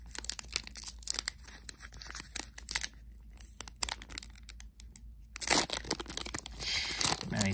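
A Pokemon Battle Styles booster pack is torn and crinkled open by hand, with close, sharp bursts of foil rip and crumple, then louder rustling of the wrapper near the end.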